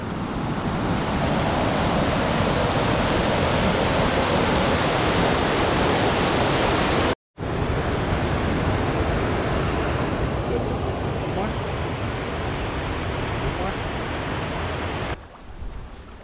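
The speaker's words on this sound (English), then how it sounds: "the top of the waterfall." Loud, steady roar of a waterfall heard from its top on a wilderness canoe trip in the Boundary Waters, continuous rushing water with one brief cut partway through and no talk.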